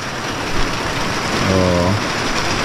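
Steady rain pours outdoors on a farm, a dense, even hiss that fills the whole stretch, with a short tonal hum rising briefly in the middle.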